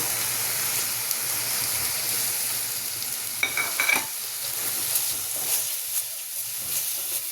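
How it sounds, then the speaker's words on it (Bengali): Onion paste with turmeric, chili, cumin, coriander and garam masala sizzles in a little oil while being stirred, a continuous frying hiss broken by scraping and knocking of the spoon against the pan. "দিয়ে ভালো করে মশলাটা কষিয়ে নেব।"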